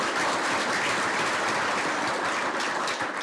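Sustained applause from a crowd at an award ceremony, a dense, steady wash of clapping that holds at the same level throughout.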